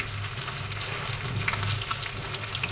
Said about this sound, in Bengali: কই মাছ ভেজে নিচ্ছি, লাল লাল করে কই মাছ ভাজা হচ্ছে।